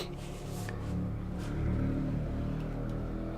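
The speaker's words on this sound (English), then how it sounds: "Noisy motorbike." A noisy motorbike in the video game The Stanley Parable gives a steady, rough engine drone, loud and close, holding level for a few seconds with no talk over it.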